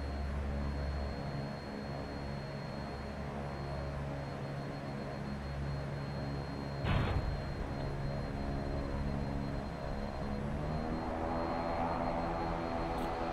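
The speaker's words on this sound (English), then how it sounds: "Reverser's out, speed's coming back." Embraer EMB-110 Bandeirante turboprop in a flight simulator, landing with reversers deployed, a steady close engine drone with layered tones and a brief thump midway before the engine roar swells again.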